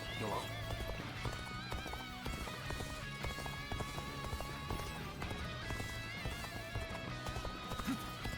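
Rapid rhythmic hoofbeats of a galloping horse in the video game Dynasty Warriors Origins pound on without pause, loud and up front over layered game sounds and music.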